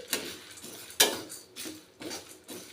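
Lentils are dry-roasted in a pan and stirred with a metal spoon, producing a series of scraping strokes and sharp clinks against the metal, close and fairly quiet.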